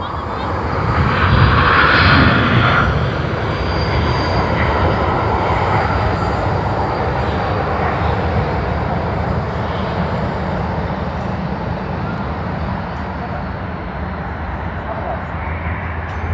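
All Nippon Airways jet airliner at Sydney Airport, a steady broadband engine roar that swells loudest in the first few seconds then holds as a continuous rumble, heard alone.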